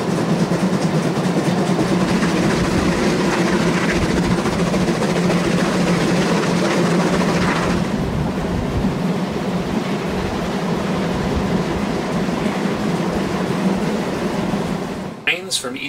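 A German narrow gauge steam train in Saxony runs past, its steady rumbling and rushing noise loud and continuous, fading slightly partway through, with a voice talking over it.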